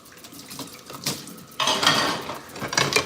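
Dishes being washed by hand at a kitchen sink with a broken dishwasher: plates and cutlery clatter close by, then running water joins in partway through and continues with scraping and knocking, with no talking.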